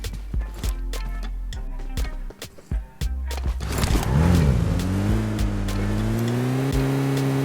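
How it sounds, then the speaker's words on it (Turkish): A car in PUBG Mobile on a snowy map: a few sharp taps first, then the engine swells into a loud, steady revving drone that rises and holds, close by, with no talk. "Aha araba."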